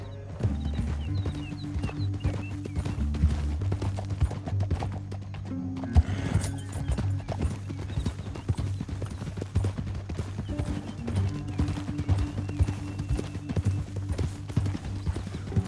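Horse hooves clip-clop in rapid, steady galloping rhythm in the western video game Red Dead Redemption 2, loud and continuous under a low musical score, with an occasional whinny and brief voices.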